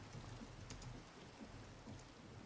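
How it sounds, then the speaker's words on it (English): Steady rain in Minecraft with the Create Arcane Engineering modpack, a faint, even hiss of falling water with soft low patter throughout and no talking. "Oh great, it's raining."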